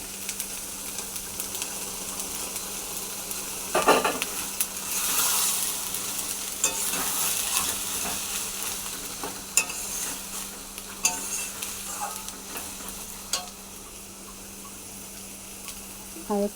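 Khar kol leaf paste ground with chilli and garlic, frying and being stirred in a pan before fried moong dal goes in, with a continuous sizzle and repeated scraping stirs close by.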